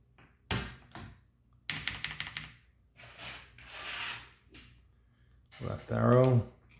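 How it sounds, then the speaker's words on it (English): Keycaps are pressed onto a custom Artemis keyboard built for a CoCo computer, giving scattered close plastic taps and short clicking bursts separated by pauses, followed by a brief stretch of speech. "So now let's install these keys."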